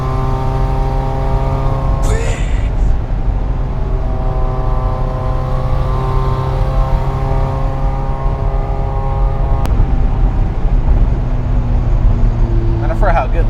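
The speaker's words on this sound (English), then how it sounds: "I forgot how good this exhaust sounds" A Mazda Miata exhaust drones steadily while the car drives through mountains, a close, constant engine note with subtle pitch shifts as the revs change and a couple of brief clicks.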